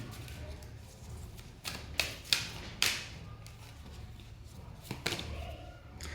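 Tarot cards being drawn and handled: a handful of sharp papery snaps and slaps, several clustered together then one more later, over a soft background hiss.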